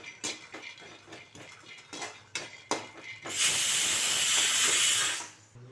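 Groundnuts dry-roasted in a pan for chutney, stirred with a metal utensil: a series of sharp scraping clinks, then a loud, steady sizzling hiss that swells for about two seconds before cutting off.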